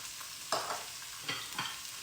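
Mushrooms frying in a pan alongside beef steak, a steady sizzle broken by a few sharp stirring scrapes, close and without talk.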